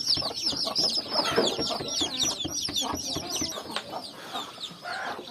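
Native desi hens and a rooster cluck continuously close by, a dense overlapping chorus of short clucks and chatter, with a crowing-like call near the start; no speech.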